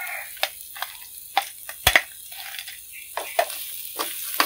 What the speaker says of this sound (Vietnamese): Mình sẽ cho đậu hũ mình đã chiên giòn sẵn vào nha.